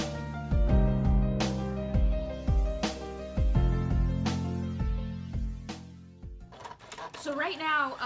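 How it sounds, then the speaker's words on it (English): A Silhouette cutting machine cuts stickers, its carriage whirring in repeated short strokes with sharp clicks between them, steady and close. Near the end the motor noise gives way to brief, higher chirping movements. "you just get used to the noise of the Silhouette"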